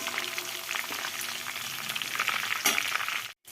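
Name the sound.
stirring cinnamon and spices frying in oil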